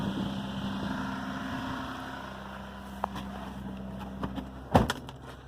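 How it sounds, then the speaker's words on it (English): A 1996 Toyota Land Cruiser FZJ80 idles on a cold morning with a steady, low, even drone throughout, joined by a few sharp clicks and knocks near the end. "don't think there's enough engine noise to turn it back off"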